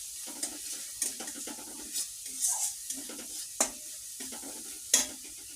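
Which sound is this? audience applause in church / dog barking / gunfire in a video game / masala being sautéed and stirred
masala being sautéed and stirred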